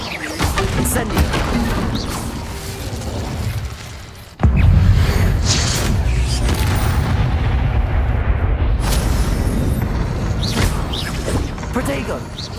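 Fire spell cast in the Hogwarts Legacy video game, a loud blast that bursts in after a brief dip and keeps roaring with crackling, booming combat effects under constant battle noise.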